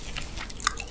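Close, crisp crunching of green onion kimchi being chewed during a mukbang, a quick series of wet bites and crackles within a single second, with no speech.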